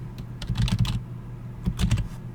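Computer keyboard typing in two short bursts of quick clustered keystrokes, fairly close and distinct, with a pause between them and no talk over them.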